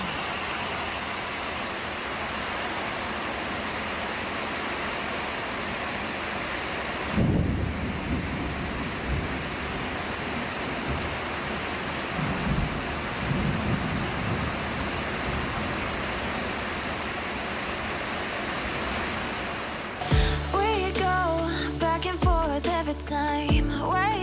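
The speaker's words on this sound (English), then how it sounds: "Thunder and lightning." Heavy rain during a thunderstorm at a fence-building site in Surin, Thailand: a dense, steady wash of downpour noise with a low rumbling swell partway through, then music cuts in near the end.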